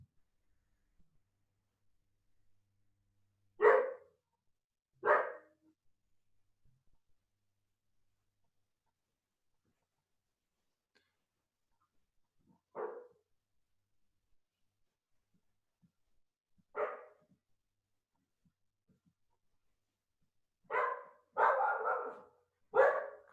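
A small female dog barks in scattered short bursts, with single yaps spaced out and a quick cluster near the end, clear and fairly close in an otherwise quiet room.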